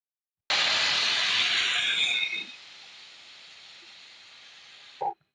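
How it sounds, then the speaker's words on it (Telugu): A loud, steady hissing whistle of a pressure cooker cooking basella leaf dal blasts for about two seconds, then fades to a softer hiss before a brief clunk. "చూసారండి నాలుగు విసులు వచ్చింది"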